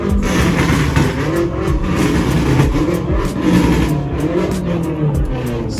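A car engine revs hard and repeatedly at a BMW night meet rev battle, loud rising-and-falling roars close by with a gritty, rumbling exhaust tone.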